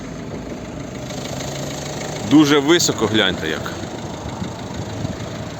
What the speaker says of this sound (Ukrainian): Підемо подивимося, як працює двигун.